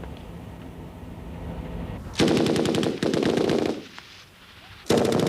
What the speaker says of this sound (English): automatic weapons and light cannon are in constant use during training